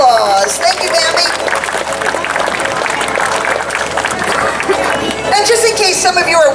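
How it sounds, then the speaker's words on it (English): An outdoor crowd at a state fair bear show applauds and cheers for Bambi the bear, a loud sustained wash of clapping mixed with chatter and excited voices. "Let's give Bambi a big round of applause."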